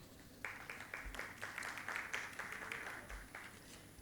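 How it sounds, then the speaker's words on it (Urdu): An audience at an Urdu conference session in Pakistan claps for a speaker, a moderate and steady patter of many hands that carries on throughout without any voices over it. "رفیع صاحب کے لیے تالیاں."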